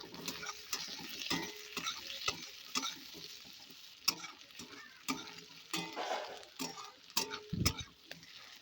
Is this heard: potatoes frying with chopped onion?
yes